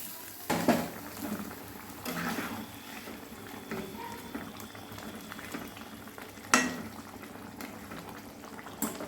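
Koi fish cook in a bubbling, spice-rich oil gravy, with a steady simmering gurgle and two sharper splashy bursts as pieces drop in or are stirred.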